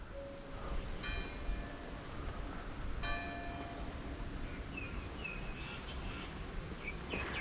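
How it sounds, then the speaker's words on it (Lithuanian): Church bells in the old town of Jaffa, Israel, ring out in a few distinct strikes from a distance, faint against steady outdoor ambience with occasional birds chirping. "Bažnyčių varpai."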